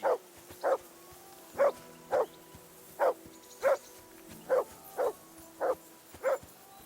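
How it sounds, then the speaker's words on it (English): A dog in the video game Kingdom Come: Deliverance II barks repeatedly in short, evenly spaced single woofs, about ten in all, clear and fairly close against a quiet background hum. "Henry, that barking's driving me nuts. Can you get your dog to shut its beak?"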